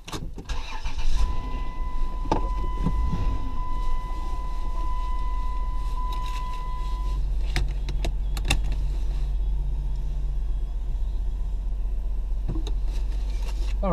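A 2001 Dodge Grand Caravan starts after a front brake pad and rotor job, with a cranking catch followed by a low, steady idle, a sustained chime tone and faint clicks and rattles nearby.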